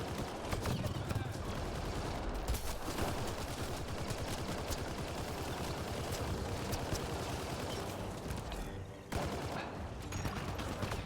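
Video-game gunfire rattles in dense, continuous bursts of rapid automatic fire, loud and sustained for most of the stretch with a short dip near the end.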